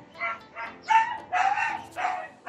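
A dog barks in a steady series of five or six sharp yaps, moderately close, with short pauses between each.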